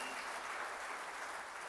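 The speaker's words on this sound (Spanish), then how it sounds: "Es ofrenda de palmas al Señor." A church congregation clapping together as an offering to the Lord, a dense and continuous wash of applause heard from a short distance.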